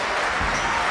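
Wrestling crowd at a CZW match roaring and applauding after a victory, a dense, steady wash of claps and cheers filling the whole brief moment with no pause.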